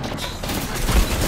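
Dense, continuous gunfire fills a brief moment in a multiplayer shooter game, with rapid overlapping shots forming a loud, steady clatter.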